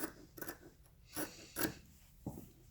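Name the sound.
scissors cutting fabric seam sample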